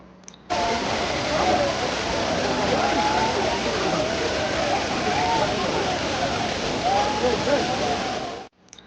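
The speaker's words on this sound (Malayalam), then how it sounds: "കുറ്റാലം വെള്ളച്ചാട്ടം" Kuttalam (Courtallam) waterfall near Tenkasi in the Western Ghats gives a loud, constant roar of falling water that starts abruptly and holds steady for several seconds, with indistinct voices faintly underneath.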